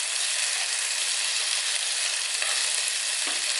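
Thin chicken breast slices fry in a pan over medium heat, giving a loud, constant close-up sizzle with faint clinks as pieces are turned, and no voices over it.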